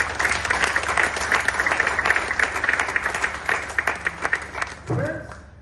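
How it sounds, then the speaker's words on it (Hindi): An audience at a divisional meeting claps loudly and steadily for several seconds, the applause thinning out near the end as a voice begins to speak. "अपने लिए जोरदार ताली बजाइए."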